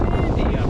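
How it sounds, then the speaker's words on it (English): Strong wind on the summit of Springer Mountain, Georgia, at the southern terminus of the Appalachian Trail: a loud, low, rumbling buffet against the microphone, brief and continuous. "And it is windy up here"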